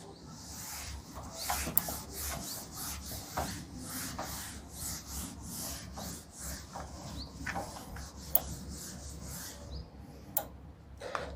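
Writing rubbed off a board during a physics lecture, a long run of rhythmic scrubbing and ticking strokes with occasional sharper taps, fairly close and heard alone.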